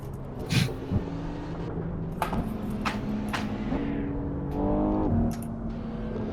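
Sports cars, including an Audi S4, C63S, WRX STI, IS-F, M2 and RS7, drive on a Los Angeles canyon road, engines droning and revving nearby with gear-change shifts and a few sharp bursts.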